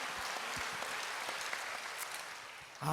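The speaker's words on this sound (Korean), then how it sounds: "우리 하나님께 영광의 박수를 올려드리겠습니다" Steady applause from a church congregation at an evening revival service, a dense even clapping that fills the hall, then ends with a louder burst right at the close.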